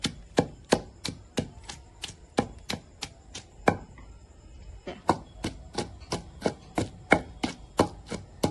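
Small onions pounded in a mortar for a chutney of dried red chillies and tomato, with a steady run of about twenty sharp, close thuds and a brief pause midway, no talking.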